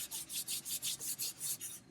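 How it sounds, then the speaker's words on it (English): Rhythmic back-and-forth rasping of sandpaper on wood, about eight quick strokes in steady succession, close and fairly quiet. "I've got a bit of 240 hand sanding to finish it off"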